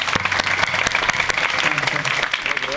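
An audience at a humorous devotional bharud performance applauds loudly, with dense rapid clapping from many hands, sustained and close, over a faint murmur of voices.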